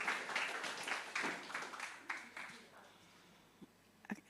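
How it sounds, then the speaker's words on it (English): A conference audience at a Bitcoin summit applauds a speaker, a burst of scattered claps fading over a few seconds with voices mixed in, fairly faint overall. "Round of applause for Ellie"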